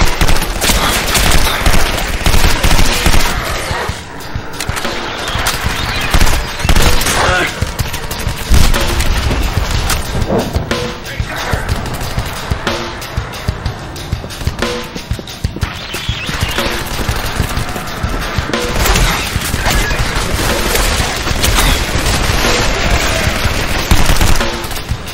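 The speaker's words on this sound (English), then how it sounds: "Deckard, open fire!" Gunfire in the video game Legendary, with dense, loud bursts of automatic fire and booming shots rattling almost continuously, layered with battle noise.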